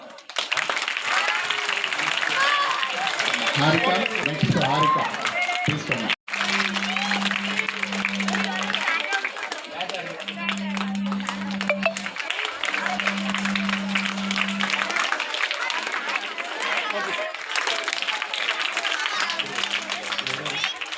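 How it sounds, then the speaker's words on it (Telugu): Audience applause at a school event where notebooks, uniforms and stationery are donated to poor students, with sustained, dense clapping across the whole stretch, a brief break partway through, and a steady low hum running beneath it. "చప్పట్లో"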